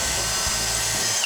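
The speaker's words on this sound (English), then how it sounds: "We're gonna pre-drill this cedar with a drill bit that's slightly smaller than our screws so we don't split it." A power drill bores a pilot hole through cedar wood with a bit slightly smaller than the screws, a close, continuous whirring grind that runs nearly the whole time, with no talking.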